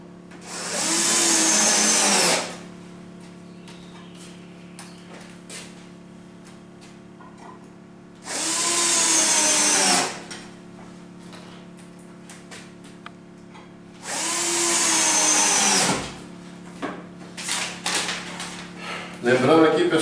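A power drill drives screws into an invisible shelf-bracket kit in three loud, steady motor whines of about two seconds each, separated by quieter pauses with faint handling noises.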